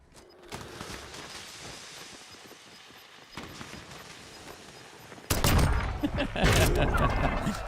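Handgun pistol fire in a video game gulag fight: sharp shots begin sparse and quieter, then rise to a loud, rapid burst near the end.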